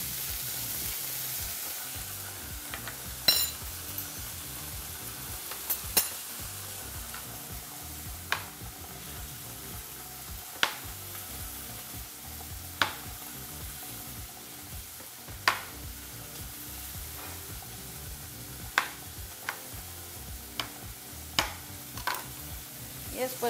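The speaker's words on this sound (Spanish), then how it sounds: "Dejamos sofreír muy bien. Agregamos las alcaparras." Capers frying and sizzling in a pan of sautéed base for spaghetti alla puttanesca: a continuous soft sizzle, close up, dotted with a dozen or so sharp stir clicks and pops at uneven intervals, no voices.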